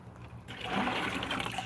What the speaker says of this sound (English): put it into this bucket of water right here to dilute it